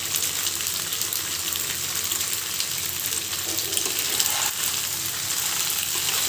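Noodles sizzle and fry with added spices in a pan, a steady dense crackle that holds evenly throughout, close and fairly loud, with no voices.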